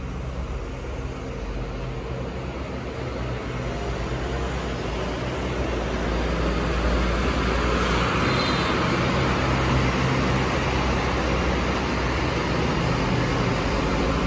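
Hino executive coach with a Tentrem body, idling at a Rosalia Indah bus depot in Tangerang; a steady low engine rumble with broadband depot noise that swells slightly louder midway and stays constant throughout.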